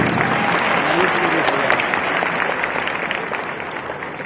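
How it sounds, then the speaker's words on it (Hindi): A seminar audience claps loudly for themselves at a business plan event, a dense continuous burst of applause that holds steady and then slowly tapers off. "एक जोरदार ताली बजा लीजिए अपने लिए"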